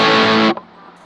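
A Donner DST 152S electric guitar plays through distortion with the gain turned down, a sustained dense chord that cuts off abruptly after half a second, leaving a faint fading hum.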